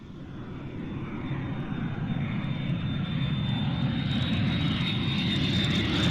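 A Dassault Mirage III B jet, back from a training flight, gives a loud, steady turbine roar that builds gradually and holds with a high whine.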